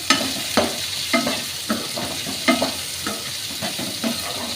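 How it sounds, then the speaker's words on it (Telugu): Chopped onions frying with okra in a pan until brown, a continuous sizzle broken by regular scraping strokes of a spoon about every half second, close and fairly loud with no voices. "ఈ ఆనియన్స్ మొత్తం బ్రౌన్ కలర్కి వచ్చే వరకు ఫ్రై చేసుకోవాలి."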